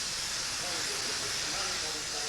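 Vintage steam traction engines such as Fodens, Fowlers, Fosters, Burrells and Aveling and Porters give off a steady, broad hiss of steam that holds even throughout, with a faint murmur of activity underneath.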